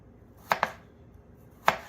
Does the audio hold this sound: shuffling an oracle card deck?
no